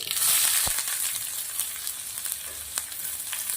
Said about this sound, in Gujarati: થોડુંક એવું અંદર રાઈ અને જીરું નાખવાનું છે થોડી હિંગ નાખવાનું છે પછી ડુંગળી નાખી દેવાની છે